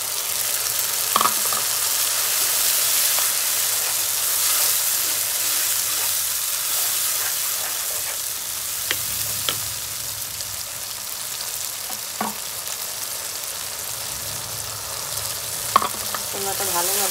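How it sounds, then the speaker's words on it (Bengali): Spice masala sizzles with softened onions in a hot pan, a steady frying hiss broken by occasional scrapes and taps of a spoon as it is stirred over a long stretch, with no talking. "মশলাটা ভালোভাবে কষিয়ে নেব, অনেকক্ষণ কষাবো"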